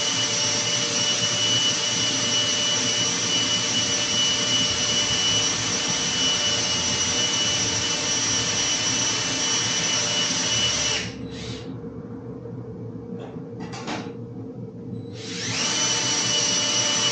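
A power tool runs steadily at high speed, spinning emery cloth rolled onto metal tubing on a tubing bender; the loud continuous whine drops out briefly twice near the end before resuming, with no talking.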